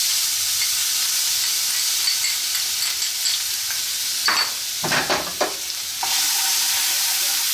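Garlic hits hot oil in a pan and sizzles loudly, a bright steady hiss broken by a few stirring scrapes and tosses near the end, with no talk.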